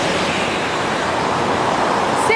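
Heavy rain pours steadily at a terminal station in Singapore, a dense, even hiss of falling water heard up close without a break.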